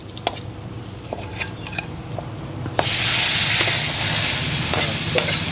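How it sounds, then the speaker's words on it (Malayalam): Chicken 75 with fried onions is stirred in a pan, with a few spatula scrapes and taps against the metal, then a sudden loud hiss of frying takes over and holds steady. "എന്നിട്ട് ആകെ ഒന്ന് ഇളക്കിയോളൂ."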